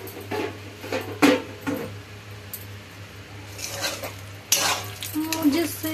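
Masala sizzles in a pan after a splash of water is added, with spoon scrapes and metallic clinks against the pot coming in bursts over a gentle background hiss.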